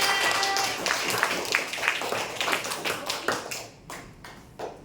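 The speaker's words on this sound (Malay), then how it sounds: "Tepuk tangan untuk Ryan." A classroom of children claps for a pupil during a lesson. The claps start dense and lively, then thin out into a few scattered, sharper claps that fade toward the end.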